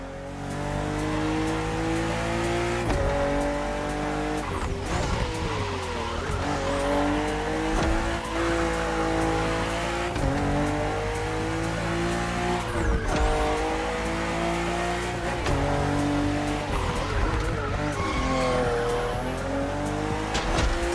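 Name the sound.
BMW M4 CSL race car engine and tire squeal, video game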